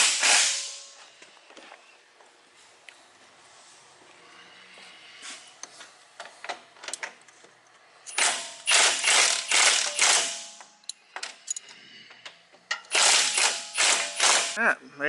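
Bolts on a Jeep JK's upgraded Rubicon Express front drive shaft yoke at the transfer case are tightened with an 8mm wrench, giving bursts of quick close ratcheting clicks between quieter gaps.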